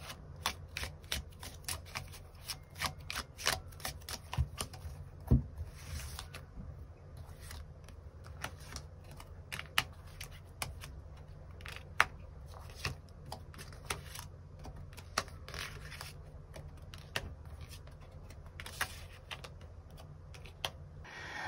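Tarot cards being shuffled and drawn, heard as a long run of rapid, crisp riffling clicks and soft flicks. The handling is close and quiet, keeps a steady pace, and has no talking over it.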